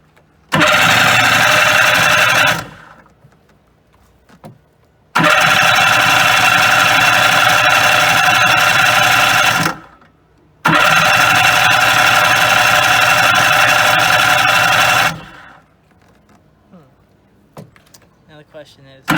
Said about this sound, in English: whoa, that's a fast turning starter